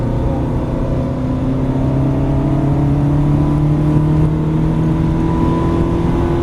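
An Aston Martin or Ferrari car engine revs under throttle on a track, a loud, sustained whirring drone with pitch slowly rising as it accelerates, close and continuous.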